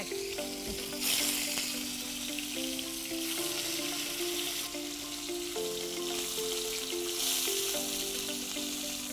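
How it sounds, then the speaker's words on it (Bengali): Pieces of rohu fish fry lightly in oil, a steady close sizzle with occasional louder crackling surges, heard alone under soft background music. "এবার মাছগুলো হালকা করে ভেজে নিই।"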